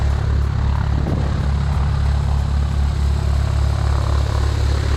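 A Mooney propeller airplane engine drones loud and steady throughout, a constant low rumbling hum with no pauses and no voices.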